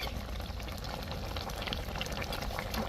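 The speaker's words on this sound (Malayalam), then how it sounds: "ഇത് നമുക്കൊന്ന് ചെറുതായിട്ടൊന്ന് ഇളക്കി കൊടുക്കാം, അല്ലെങ്കിൽ സാധനം പൊടിഞ്ഞു പോകും." Food in a pot simmering quietly in a Kuttanad-style kitchen as it is gently stirred, a soft, steady bubbling hiss with faint scraping, low and close, without speech.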